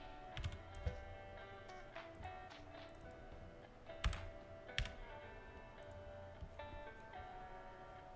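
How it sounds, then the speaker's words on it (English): Quiet, scattered typing on a computer keyboard, with irregular clusters of soft key clicks and a few sharper taps over a faint background hum. "I was just typing things out there."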